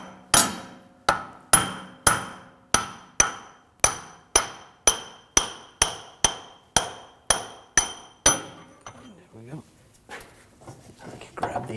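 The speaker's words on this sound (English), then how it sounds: "Now I'm going to take a punch and just push the axle the rest of the way through." A hammer strikes a punch to drive the rear CV axle out of a 2007-2013 BMW 328i with its 3.0L inline-six, giving about fifteen sharp metallic blows at an even pace, close and loud, followed by quieter shuffling.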